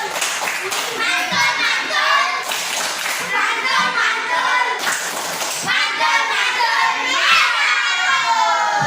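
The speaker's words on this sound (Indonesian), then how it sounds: "kalau saya sebutkan nilainya kasih tepuk mantul ya" A group of schoolchildren in a classroom bursts into a rhythmic patterned clap chant, bright rapid claps in repeating bursts mixed with children's shouts and chatter, loud and close throughout.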